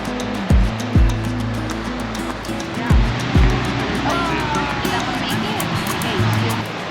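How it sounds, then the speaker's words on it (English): A small salmon creek in Ketchikan, Alaska, rushes with a steady broadband roar, broken by a few sharp low thumps near the microphone. "Water flowing and rushing while the salmon are trying to swim upstream"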